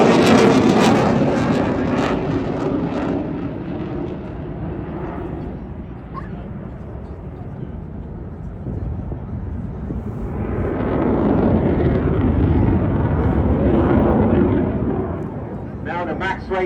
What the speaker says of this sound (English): Now watch as he comes back in, rolling the aircraft onto the top side.